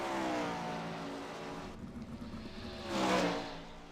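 Sim race cars circling Volusia in a video game, several engines droning together with a steady harmonic whine, one car passing close near the end with a louder swell.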